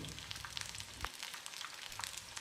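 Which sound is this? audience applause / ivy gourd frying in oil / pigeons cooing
ivy gourd frying in oil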